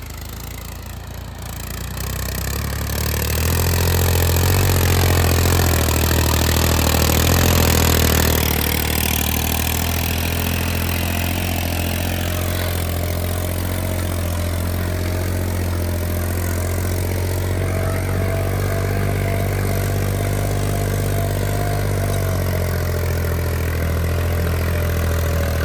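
A tractor running a C-type cultivator through dry soil gives a loud, steady engine drone that swells over the first few seconds and then holds, with a faint mechanical rattle and no voices.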